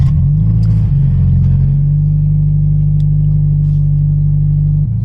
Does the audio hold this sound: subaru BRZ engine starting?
yes